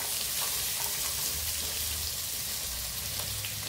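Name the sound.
cauliflower and potato frying in mustard oil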